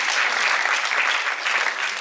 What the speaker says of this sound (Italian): Il doppio applauso.